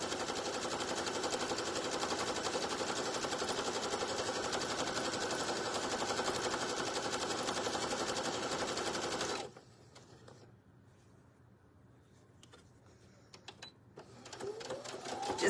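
A sewing machine stitches a patriotic rag table runner, humming in a steady, fast, even run for about nine seconds before stopping, leaving quiet handling noises and a brief restart near the end.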